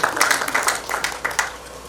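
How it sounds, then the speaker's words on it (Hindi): An audience claps for Dr. Kumar Manoj at a ceremony announcing an India-UAE economic conclave, a short bright burst of applause with rising and falling patches of hand claps, fairly close and loud. "मैं चाहता हूँ एक बार जोरदार तालियां डॉक्टर कुमार मनोज के लिए।"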